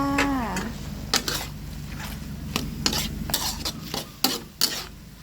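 Hot dog stir-fried with holy basil leaves in a pan, a soft sizzle under repeated sharp metal spatula scrapes and clanks against the pan, no talking.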